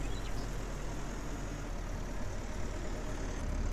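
Tractor engine running steadily in the farming video game Farmer's Dynasty, a continuous low rumble that stays constant throughout with no voices.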